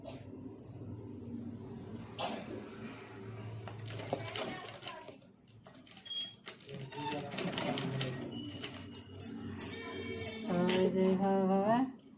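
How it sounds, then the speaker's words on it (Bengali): A sewing machine stitching with golden thread, running in bursts of rapid mechanical whirring and clatter, close by, with voices talking, including a child, between and over the runs. "দেখো সেলাই দিচ্ছি"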